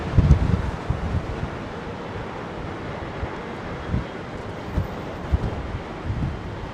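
Blustery wind buffets the microphone during a triple-seven's approach to Newark, with gusty low rumbles and bursts at irregular intervals, moderately loud and steady, with no voices.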